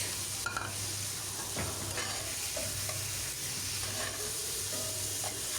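Stinging catfish frying in a spice paste gives a steady close sizzle, with a utensil stirring and knocking the pan now and then.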